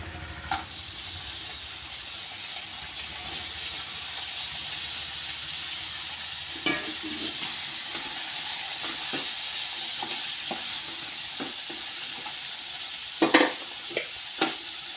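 Washed broad beans fry in a pan with a low, steady sizzle, punctuated by sparse spoon scrapes and clinks that grow a bit louder near the end.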